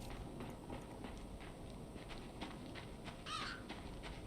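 Crows caw repeatedly in a video game against a steady dense ambient background, with one brighter call standing out near the end.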